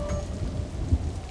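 Heavy rain in a thunderstorm: a steady, dense roar of downpour with a low rumbling underneath, continuous and fairly loud, no voices.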